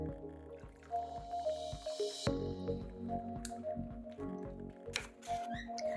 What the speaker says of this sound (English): I rinse everything with vinegar and water